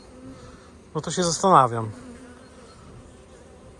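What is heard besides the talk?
honeybees buzzing at an opened hive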